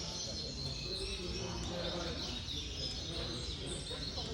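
Gloster canary singing at a canary competition, faint bright chirps and warbling trills running through a noisy indoor room.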